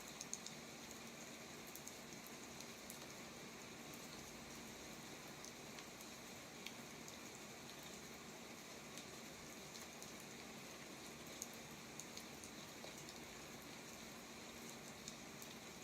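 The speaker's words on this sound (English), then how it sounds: "As you picture this rain just cleansing you" Rain falling with a steady, even hiss and faint pattering of drops, very quiet and continuous for about sixteen seconds with no voices.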